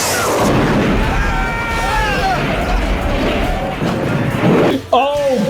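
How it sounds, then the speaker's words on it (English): A rocket is fired at a police van in an 80s action film, with a loud explosive blast and rumbling roar running under the talk, then a sharp bang near the end; people speak over it. "To shoot a rocket at him."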